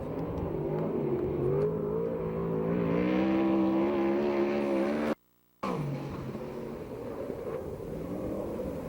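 A USAC/CRA sprint car laps the Perris, California fair track with a loud, high engine whine that climbs and wavers through the lap, then cuts out briefly before the engine note returns.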